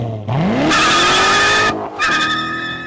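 A sports car engine and exhaust, tuned and loud, rising in pitch as it accelerates hard, holding a sustained high-revving roar, then dipping briefly before revving up again, close and with no talk.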